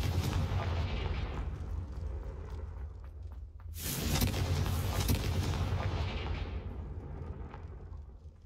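A magical Confringo blast spell goes off in a game as a deep explosive boom, loud and rumbling, followed by a bright burst and a long fading roar.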